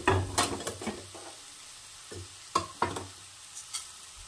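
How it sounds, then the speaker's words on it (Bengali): A spatula scrapes and stirs a spice mix frying in a pan for a khaira fish curry, with irregular close scraping strokes over a soft, continuous sizzle. "এই সব কিছু দিয়ে একটু ভালো করে আবারও নেড়ে চেড়ে মশলাটাকে কষিয়ে নেব।"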